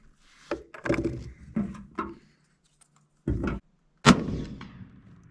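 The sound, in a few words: 7 PRC rifle gunshot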